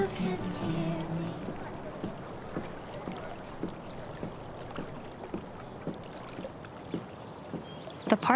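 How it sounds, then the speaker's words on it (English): Kayak paddle strokes dipping into water in the video game Life is Strange: True Colors, a regular series of soft splashes about every half second under light ambient wind and music. "If not for the paddling, kayaking would be super relaxing."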